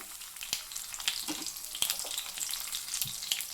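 Crushed garlic, mustard seeds, cumin and chilies fry in hot oil with a bright, continuous close-up sizzle, dotted with small pops and spatters.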